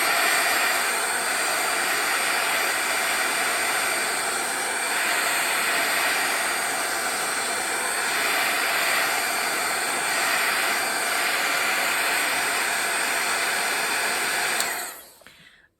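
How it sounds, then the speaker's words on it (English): A heat tool blows steadily to dry oxide ink on cardstock, a loud continuous whooshing roar that holds for about fourteen seconds before cutting off. "so I'm going to dry with my heat tool"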